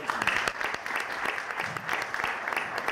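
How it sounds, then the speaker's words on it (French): Applause for a school canteen chef at a ceremony, a fairly distant, even patter of many hands clapping without pause. "on l'applaudit bien fort"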